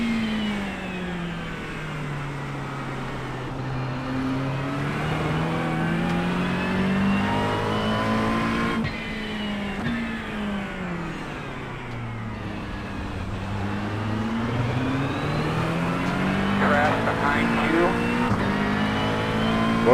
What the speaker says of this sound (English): Got one car coming.